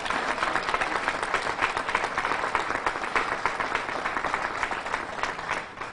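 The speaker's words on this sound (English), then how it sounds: "Give him a round of applause." An audience applauds at a press conference for the unveiling of a Frederick Douglass statue, a dense, loud, sustained burst of clapping from a crowd that holds steady throughout.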